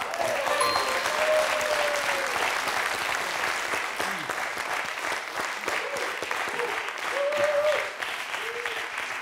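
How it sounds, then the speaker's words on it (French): A studio audience on a French quiz show applauds steadily throughout, with brief voices and tonal cheers rising above the clapping at moments. "Très belle réponse, applaudie par Christophe tout à l'heure."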